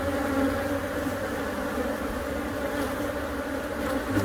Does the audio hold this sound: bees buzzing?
yes